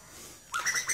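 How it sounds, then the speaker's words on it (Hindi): An Asian koel calls in the background outdoors near a peach tree: a short burst of bright, rising whistled notes that follows a quiet lull. "ये पीछे आपको बैकग्राउंड पे आवाज़ आई होगी"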